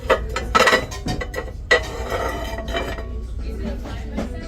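A ceramic crab-shaped dish pulled from a crowded shelf at a HomeGoods store, giving a few clinks and clatters of dishware knocking together, close up, with a voice talking alongside.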